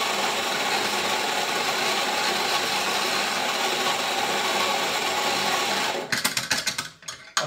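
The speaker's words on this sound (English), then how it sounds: "I'm bringing these in at a 10 on the grinder. The old Rocky's doing its job." Rancilio Rocky coffee grinder grinding Douwe Egberts extra dark espresso beans, a continuous loud grinding whir for about six seconds, then rattling clicks and knocks as it winds down, with no talking.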